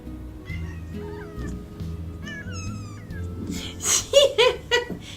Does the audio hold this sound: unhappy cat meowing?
yes